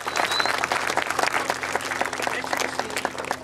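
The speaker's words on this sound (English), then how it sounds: "I think we should give the board another hand of applause for their vision." Steady, dense audience applause for the school board at an elementary school ribbon-cutting ceremony, many hands clapping continuously at moderate distance, with a faint hum beneath.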